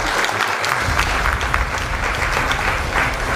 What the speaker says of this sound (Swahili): Tupige makofi pia